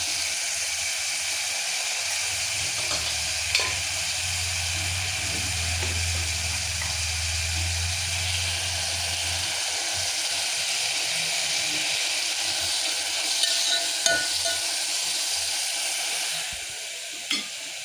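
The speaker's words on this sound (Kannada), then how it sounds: "ಅದಕ್ಕೆ ಶುಂಠಿ ಬೆಳ್ಳುಳ್ಳಿ ಪೇಸ್ಟನ್ನು ಹಾಕಬೇಕು ಚೆನ್ನಾಗಿ ಬೇಯಿಸಬೇಕು" Ginger garlic paste sizzles and fries steadily in a pan for palak sambar, with spoon stirring and scraping audible throughout and no talking.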